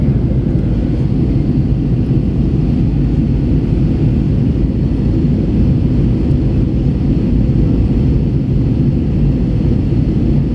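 Steady, loud low roar of an American Airlines Airbus A321's engines heard from inside the cabin during a go-around at LAX, a continuous rumbling drone with no talk over it.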